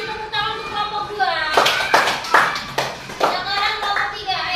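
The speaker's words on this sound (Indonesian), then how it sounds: "Kasih tepuk tangan untuk kelompok 2." Children in a classroom clap together for a classmate group, several sharp bursts of hand claps in an uneven rhythm, loud and close, with a teacher's voice talking before and between the claps.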